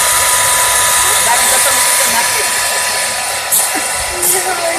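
A hair dryer blows on a newborn goat kid, a loud steady whooshing hiss with a whining motor tone that runs throughout, with faint voices and small bumps toward the end.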